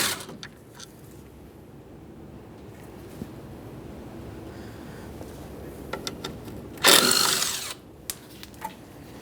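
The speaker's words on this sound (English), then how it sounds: "Now let's remove our 2 caliper slider pin mounting bolts." A power tool whirs in a short loud burst while removing 13mm caliper slider pin bolts on a 2015-2020 Ford F-150 front brake, set among quiet clicks and small metallic taps in a garage.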